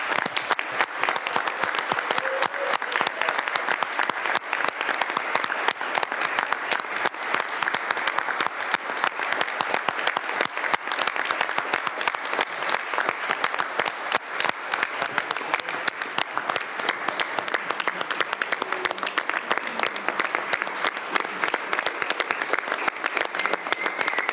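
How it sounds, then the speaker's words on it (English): A county board of commissioners meeting breaks into a long, sustained round of applause, many hands clapping in a dense, even patter that holds steady for over twenty seconds with no pause. "Round of applause."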